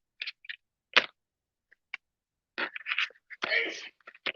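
A single sharp sneeze bursts out amid scattered short voice sounds and murmurs, fairly close, with people talking around it.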